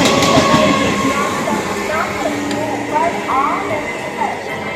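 At a railway station platform, a train rumbles and screeches steadily close by, with metallic squeals over a busy crowd and people talking nearby.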